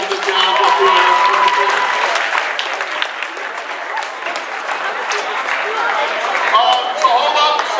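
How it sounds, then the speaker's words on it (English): An audience at a school assembly claps loudly and continuously, dense applause mixed with crowd murmur and scattered voices from the room. "let's give another round of applause for these guys that down up here"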